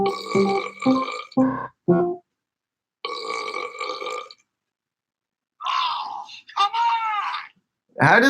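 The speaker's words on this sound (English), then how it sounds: "Can we get the burp with this?" A sequence of loud, close burps at a New Year's party, several drawn-out belches separated by short pauses, some long and groaning, with no talking.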